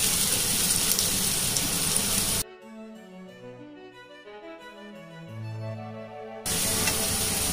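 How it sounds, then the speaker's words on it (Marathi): Onion sizzles in a pan with garlic for Fodashi bhaji, a loud steady frying hiss that stops for a few seconds while soft music plays, then returns. "आता त्यामध्ये कांदा घालणार आहे।"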